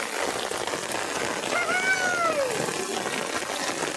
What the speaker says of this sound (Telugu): ఈరోజు అయితే వర్షం అయితే వచ్చింది